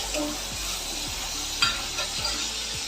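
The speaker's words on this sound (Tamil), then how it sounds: "கத்திரிக்காய் இதில் கொஞ்சம் வதங்கட்டும்." Brinjal sautéing in a pan for a spicy Tamil brinjal kara kuzhambu, giving a steady close sizzle with a few soft scraping stirs and a small clink, no talking.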